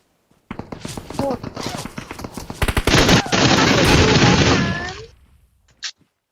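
Rapid bursts of PUBG Mobile gunfire crackle loudly, building into a dense stream of shots, with a voice speaking over the start.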